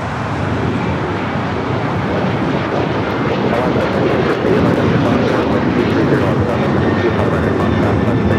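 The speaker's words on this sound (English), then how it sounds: "That is United Airlines 1298 taking off to Tampa, Florida on the 737-900 ER." United Airlines Boeing 737-900ER taking off at Los Angeles LAX, a loud, steady jet roar with constant wind buffeting on the microphone.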